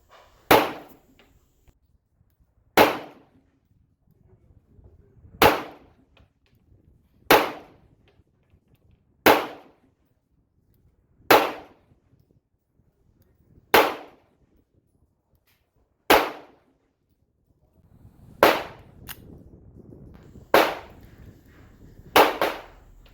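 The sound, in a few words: IWI Jericho 941 pistol shots being fired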